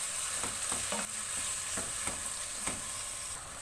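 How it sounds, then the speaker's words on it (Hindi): Half a kilo of minced beef keema frying and being stirred in a pan over a high flame, a steady close sizzle broken by repeated scraping strokes of the spoon, with no talking. "इसको अच्छे से भूनेंगे ताकि ये अपना कलर चेंज कर ले कीमा, हाई फ्लेम पर 2 से 3 मिनट के लिए।"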